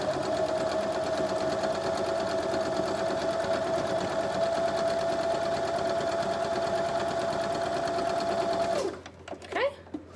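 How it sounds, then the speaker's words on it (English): A sewing machine runs steadily for about nine seconds, joining the centre seam of a card trick quilt block corner to corner, then stops, leaving a few faint handling sounds. "So joining up that centre seam from corner to corner, and stitch."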